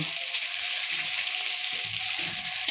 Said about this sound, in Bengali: পেঁয়াজের বেরেস্তা করে তুলে নেব